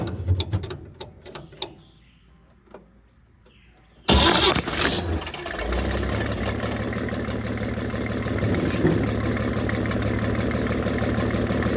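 A 1950 Chevrolet 4400 dump truck engine cranks with uneven clattering turnover for a few seconds, then catches with a sudden loud roar and settles into a steady, rough, close idle.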